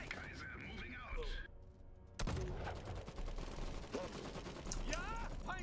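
Troops firing weapons in the strategy game Iron Harvest, a dense mix of rapid gunshots and bursts with in-game voice lines running over the battle.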